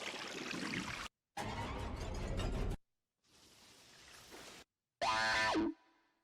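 Library transition sound effects play in sequence: noisy whooshing and mechanical ratcheting bursts separated by short gaps, ending with a bright boing-like sweep, loud and up close.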